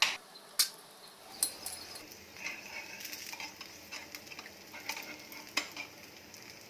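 Moong dal dosa, a South Indian pesarattu, cooks on a hot pan with a faint, steady sizzle and occasional light utensil clicks and taps, without any talking.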